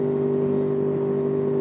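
A motorbike engine on the road after rain drones in a smooth, steady hum with a strong low tone, close and continuous over a short moment without voices.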